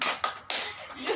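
Hand clapping for the Tepuk Gembira clapping game, a few sharp close claps at an uneven rhythm, soft and near.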